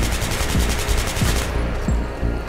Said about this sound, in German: Ah, ich schieße gegen den Baum.